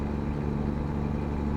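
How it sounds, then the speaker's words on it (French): Small truck engine idling in American Truck Simulator, a steady low rumbling hum with no talk over it. "c'est un petit camion que j'ai là"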